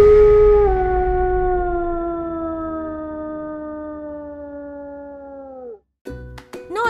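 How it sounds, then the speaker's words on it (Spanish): A long, sustained wolf-like howl used as a werewolf sound effect, loud and tonal, slowly sliding down in pitch for about six seconds before breaking off into a few short yelps. "el aullido del hombre lobo."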